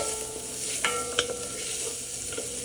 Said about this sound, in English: We're gonna cook these down until they're translucent. This is called sweating our onions.